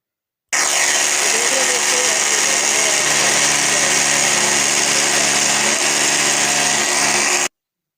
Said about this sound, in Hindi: राई और हमने सफ़ेद ज़ीरे को मिक्स ग्राइंड किया है